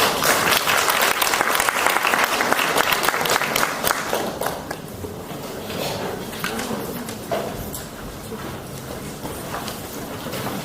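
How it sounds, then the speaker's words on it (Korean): Audience applause welcoming a presenter at a workshop on welfare for disabled and elderly people, a loud, dense crowd clapping that gradually thins and softens over about ten seconds. "뜨거운 박수로 환영해 주시기 바랍니다"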